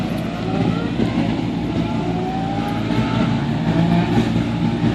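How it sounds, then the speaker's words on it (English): Race cars revving and accelerating on the Jebel Hafeet mountain road in Al Ain, a steady loud engine drone with rising pitch sweeps, heard from nearby outdoors without talk. "It sounds like they're racing."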